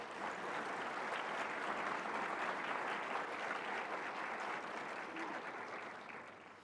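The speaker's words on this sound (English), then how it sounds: "Let's give a round of applause to all of our sponsors and members." Conference audience at a sustainability summit applauds sponsors and members with sustained, dense clapping at moderate distance, holding steady before tapering off slightly at the end.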